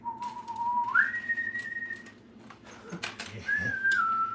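A person whistles a short tune nearby, a sliding melodic line with a pause midway before resuming, over faint background clatter.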